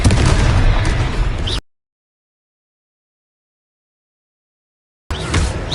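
Explosions from the Confringo spell in a Harry Potter video game: loud, rumbling blasts up close, then a few seconds of dead silence before the booming resumes.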